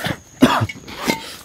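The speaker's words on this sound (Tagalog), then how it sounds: "inuubo pa oh." A few sharp coughs close by, in short bursts separated by brief pauses, with no talking.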